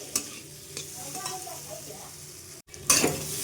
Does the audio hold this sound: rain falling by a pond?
no